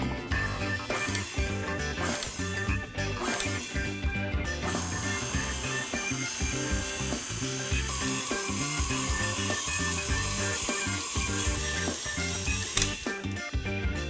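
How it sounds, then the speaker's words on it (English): An electric mixer beats gluten-free, dairy-free espresso chocolate chip cookie dough with a dense, continuous mechanical whir and rattle that churns steadily at close range for the whole stretch, with no voices. "I'm gonna first lightly pulse this so it doesn't make the flour go everywhere, and then we'll get it up onto a good speed"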